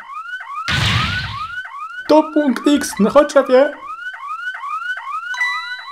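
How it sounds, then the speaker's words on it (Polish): An alarm from the video game Ghost Trick: Phantom Detective blares in repeating rising electronic whoops, loud and continuous, with a burst of game noise and a short stretch of speech partway through. "Alarm!"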